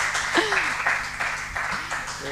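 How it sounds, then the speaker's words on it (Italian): An audience at an acting school performance in Pescara applauds an actor, with brisk clapping filling the hall while voices call out over it. "veramente un applauso ci vuole, dai, bello forte"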